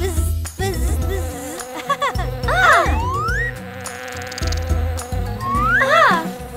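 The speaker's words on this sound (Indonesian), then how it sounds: "Ah! Ah! Lebah!" A cartoon bee buzzes in a children's animated song, a wavering, pitch-sliding drone set against bouncy music.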